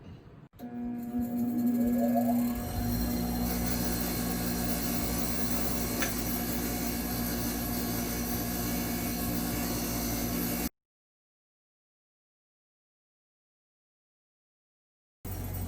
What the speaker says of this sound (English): I'm actually going to use my wire wheel and be gentle on them.